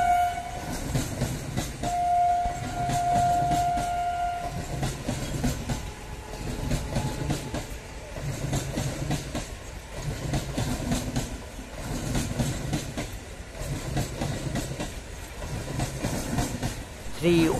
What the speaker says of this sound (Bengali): 31918 down Gede Sealdah local Kalyani rail station ছেড়ে পরবর্তী রেল স্টেশন কাঁচরাপাড়ার দিকে যাচ্ছে